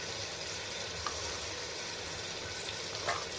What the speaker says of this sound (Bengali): দিয়ে আমি আর একটু ভালো করে কষে নিচ্ছি যতক্ষণ না মাটনের গা থেকে তেল ছেড়ে দেয়